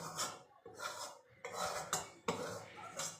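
A cooking pot of bean paste lifted off the stove, sharp metallic clatters and scraping knocks in several bursts, close and moderately loud against a quiet background.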